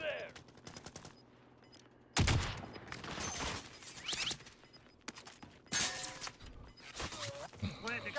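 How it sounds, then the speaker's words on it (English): Bursts of rapid gunfire in the Warzone video game coming from behind the player, several loud volleys with sharp cracks and shattering impacts, separated by quieter gaps while someone talks. "Oh, being shot from behind."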